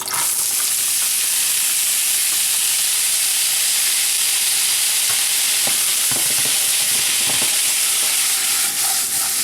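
Potatoes frying in a hot pan: a loud, steady sizzle and hiss fills the whole stretch, with faint stirring scrapes underneath.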